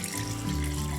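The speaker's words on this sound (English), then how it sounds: "first we're just going to cover the beetroots with water" Tap water runs steadily into a pot to cover beetroots in a kitchen, a continuous close rushing pour with no voices.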